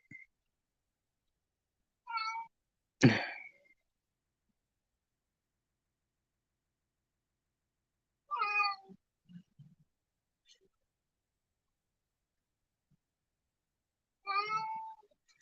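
A cat meows three times indoors, several seconds apart, fairly close and clear, with a brief sharp knock between the first calls and long quiet gaps.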